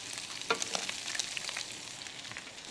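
Onions fry on a skillet beside bacon, giving a faint steady sizzle with a few light crackles and pops, no voices.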